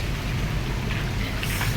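Heavy rain falls in Goa as a steady, dense wash of drops with a low rumble of wind underneath, close and constant throughout.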